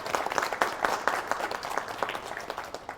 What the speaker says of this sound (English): A round of applause for all of our panelists.